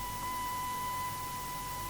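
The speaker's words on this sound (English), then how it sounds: "You can hear the continuous tone in the background there." A steady, unbroken radio range tone hums faintly behind noisy static in the cockpit of a PMDG DC-6 in Microsoft Flight Simulator, with no talking.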